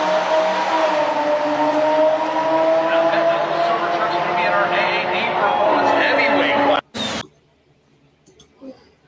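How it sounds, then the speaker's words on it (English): A Cummins diesel pickup truck drag racing a Corvette: a loud, sustained engine roar under accelerating pull that cuts off abruptly, followed by a few faint clicks and near silence. "This is a Cummins versus a Corvette."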